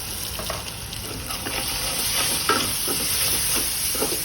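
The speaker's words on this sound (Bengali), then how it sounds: "ভালো করে ভাজতে হবে যেন মশলার কাঁচা গন্ধ না থাকে।" Ginger, garlic and onion paste fries in a pan as the base for spiced beef liver, with a steady, close sizzle throughout and soft scraping strokes of stirring on top.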